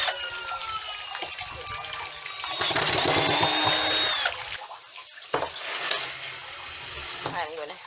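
A power drill backs screws out of the wooden bottom piece of a rustic farmhouse table, whining loudly in a sustained burst at close range, with shorter bursts, clatter and running noise around it.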